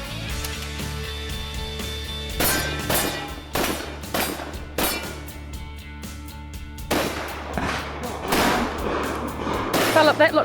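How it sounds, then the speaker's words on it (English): Combat shotgun blasts at steel targets during a 3-gun match, a series of sharp booming shots at uneven intervals, some close together, with a low steady hum underneath. "Combat shotgun is really quite fun."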